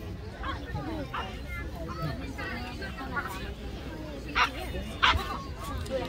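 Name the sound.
police dog barking during attack demonstration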